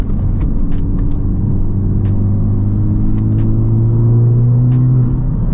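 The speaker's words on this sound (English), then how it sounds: "If I shift into a higher gear and just cruise, you can barely even hear that exhaust" Steady, low engine drone with a smooth exhaust hum from inside a modified Honda Civic Type R FL5 cruising in high gear, constant and subdued, with faint road noise and a few light clicks.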